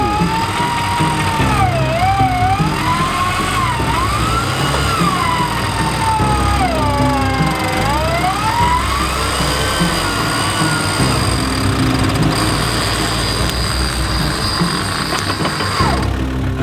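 A 4x4 winch pulls a car up by synthetic rope during off-road driving, a loud continuous whining motor whose pitch rises and falls through the pull.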